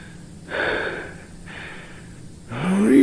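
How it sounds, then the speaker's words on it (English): Slow, heavy breathing in the horror video game Innocent as the Ice: three drawn-out, raspy breaths rising and falling in a steady rhythm, close and eerie, the last one louder and ending with a rising gasp. "hear a breathing sound the whole time"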